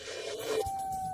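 The Siren Head creature in a forest survival video game lets out an eerie siren wail, a steady tone that shifts pitch partway through over low rumbling game ambience.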